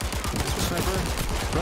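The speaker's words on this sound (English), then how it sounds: "Suppressing fire." Suppressing gunfire in the VR shooting game Zero Caliber: rapid, sustained automatic fire that is loud and close and fills the whole moment, with voices mixed in.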